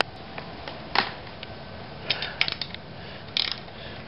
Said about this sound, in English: we're just taking out the three retaining bolts that hold the sole plate into the side frame, and it's just a matter of just loosening these off